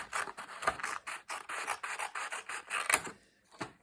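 Scissors cut straight along a strip of paper roughly five centimetres wide, a quiet series of rhythmic crisp snips and rasps close up, with a short pause before a final cut.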